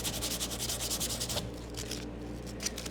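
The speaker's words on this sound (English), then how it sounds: "I like the idea of hand sanding this stuff." Barn wood being hand sanded with the grain for a toy chest, a close rhythmic scratchy rubbing in quick repeated strokes that pauses briefly, then resumes.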